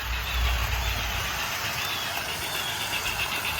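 A Broadway Limited model train runs on an outdoor garden railroad, giving off a steady mechanical whir and hum that holds at an even, moderate level throughout, with no voices.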